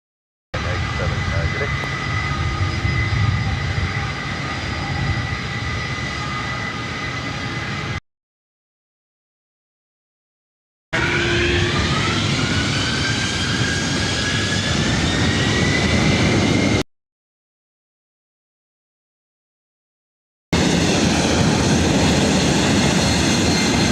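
A Delta 535 Heavy jet takes off from runway 24 right at LAX. Its engines give a loud, steady roar in three separate stretches with silent gaps between them, and a rising whine runs through the middle stretch.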